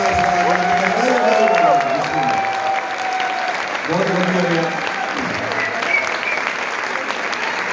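Sustained applause from an audience at a Punjabi poetry mushaira at the Faiz Festival, a dense, steady wash of clapping running throughout while someone speaks over it.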